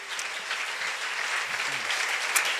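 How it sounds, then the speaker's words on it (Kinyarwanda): A church congregation keeps up even, continuous applause in praise of the Lord, moderately loud, with a faint voice briefly rising within it. "dukomere amashyi wo mwami w'ubugingo"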